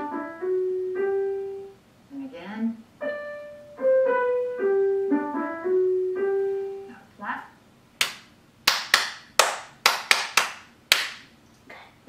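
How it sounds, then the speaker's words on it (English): Piano exam candidate claps back a short melody in 4/4 time after a piano plays it; a dozen or so sharp, close hand claps follow in an uneven rhythm. "I'd like you to clap it back"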